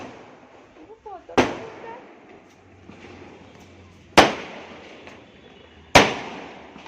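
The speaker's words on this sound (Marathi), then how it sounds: "बघा फटाके कसे फुटते" Three sharp firecracker bangs go off a few seconds apart during a celebration, each crack echoing away, with faint voices and background hum between them.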